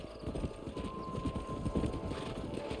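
Rhythmic clip-clop of horse hooves trotting steadily on a hard surface in the video game Red Dead Redemption, fairly loud and close, with faint ambient noise beneath.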